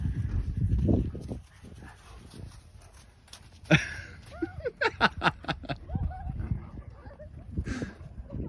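A dog whimpers and gives a few short yelps amid a busy household, with people talking and moving around nearby.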